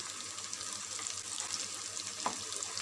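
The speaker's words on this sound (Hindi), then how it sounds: "तो ये मसाला हमारा अच्छी तरह से भुन गया है" Masala for a restaurant-style egg curry fries in a pan with a steady, fairly quiet sizzle and one brief scrape or stir near the end. No one speaks.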